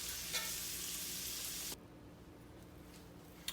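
Ground beef fries in a pan, making a soft, close, steady sizzle that suddenly drops away partway through to a faint low hiss, ending with a small clunk.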